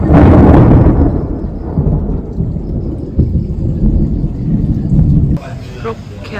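Heavy tropical rain pours down in Bali while thunder rolls in a loud, deep rumble, the downpour continuing steadily after the roar eases.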